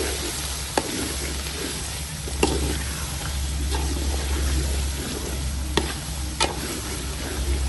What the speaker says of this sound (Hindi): अच्छे से मिक्स करेंगे और इसको अच्छे से भून लेंगे।